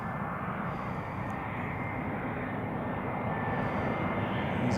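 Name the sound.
EasyJet airliner coming in to land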